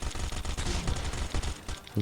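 Rapid bursts of gunfire in the video game Last Island of Survival crackle in quick succession, a dense volley of sharp shots with a brief pause near the end.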